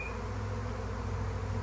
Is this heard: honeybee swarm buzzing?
yes